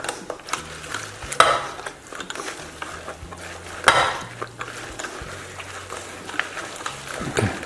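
A spatula scrapes and knocks against a metal potato ricer in short, irregular strokes, with clinks of metal cookware and a quiet background hum.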